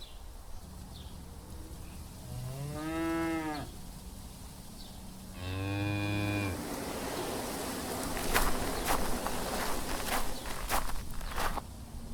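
Two drawn-out cow moos from a farming video game, one after the other, fairly close, followed by brief clicking and scattered ambient game sounds with no talk.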